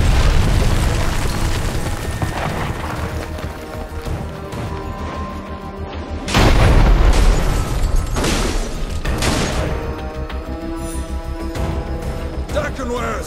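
Cannons fire in the video game Dungeon Siege 3, heavy booming blasts and crashes over a loud battle soundscape, with the strongest explosion in the middle.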